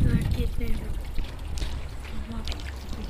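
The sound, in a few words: water poured over a body during washing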